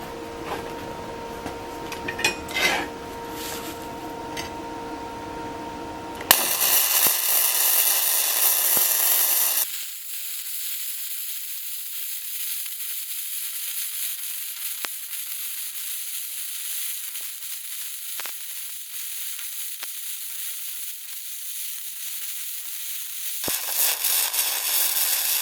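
Flux-core arc welding at 105 amps lays a butt weld on 3/16-inch steel plate, a steady close crackling hiss that runs on for many seconds after a few sharp bursts at the start, with no talking.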